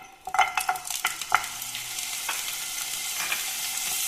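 Five or six pieces of paneer drop into hot oil and fry, a few quick splashy clatters at first, then a steady bright sizzle that carries on alone.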